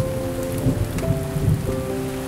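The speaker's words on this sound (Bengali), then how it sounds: "পথের মাঝামাঝি আসতেই শুরু হলো প্রচণ্ড ঝড় বৃষ্টি।" A heavy cartoon rainstorm with thunder hisses steadily and densely, and soft low rumbles swell beneath it. A sustained musical drone runs through the whole stretch, with no voices.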